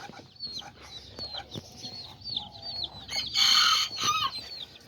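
Chickens, a small silkie hen among newborn chicks, cluck and peep softly up close, joined by a brief louder crowing burst from a rooster in the middle, with no one speaking.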